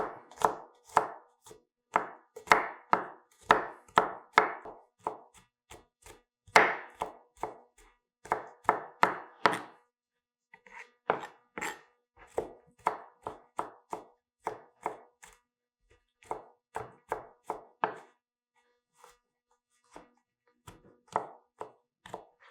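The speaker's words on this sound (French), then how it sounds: "Alors l'ail, pareil, on va le couper grossièrement parce que de toute façon ça va cuire longtemps" Garlic is chopped coarsely with a knife on a board in quick, rhythmic bursts of sharp taps, close and clear, with short pauses between runs.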